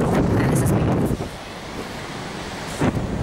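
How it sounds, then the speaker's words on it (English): Strong wind buffets the microphone at a beach beside the sea, a loud roaring rumble that dips briefly and gusts again, with surf faintly under it. "Gosh, it's windy."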